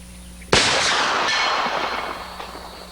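A single rifle shot is fired offhand at a 200-yard target outdoors. One sharp, loud report cracks out and its echo rolls away over the following two seconds, with no voices.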